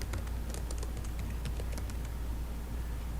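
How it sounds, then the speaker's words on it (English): A computer keyboard is typed on in a quick, light burst of clicks over a steady background hum, close and fairly faint, with no talk. "And we're going to type customer number."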